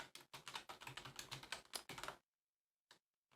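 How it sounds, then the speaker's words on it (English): Fast, close clatter of typing on a computer keyboard in a dense two-second run, then silence and a single isolated keystroke near the end, with no voices. "we're just going to type in"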